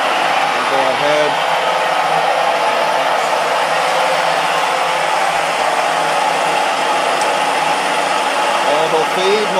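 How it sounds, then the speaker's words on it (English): A steady mechanical whir from an auto feed motor on 230-volt power, running continuously as a broad, constant hum, with a voice speaking faintly over it now and then. "Auto feed motor working."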